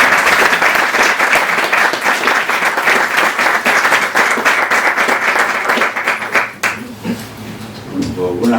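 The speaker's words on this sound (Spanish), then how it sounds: "os pido para él un fuerte aplauso y damos comienzo con su ponencia" Audience applause welcoming a speaker at a geopolitics lecture on Morocco, a dense sustained clapping from a room full of people that fades out near the end into quiet room noise and a few stray sounds.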